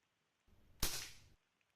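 A 3D-printed miniature Condor PCP toy airsoft gun fires once: a brief faint mechanical click, then a single sharp snap of the shot with a short airy tail, alone in a quiet room.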